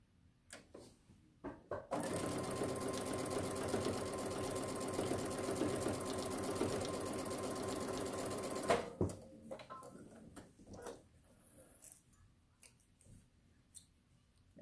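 A sewing machine runs steadily for about seven seconds while stitching quilt pieces together, with a few close clicks and handling taps before and after the sustained motor whir.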